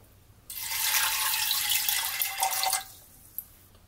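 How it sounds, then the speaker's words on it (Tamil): Water pours into a pressure cooker with green peas in a steady broadband rush for about two seconds, then stops, leaving a faint quiet room and a small clink. "தேவையான அளவு தண்ணி"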